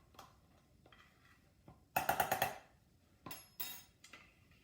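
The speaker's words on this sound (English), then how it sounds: "There is a lot of utensils going on in this recipe." Metal utensils clattering while a mug cake is mixed: a few soft knocks, then a loud burst of rapid clinking, followed by two more sharp clanks, close by and with no voices.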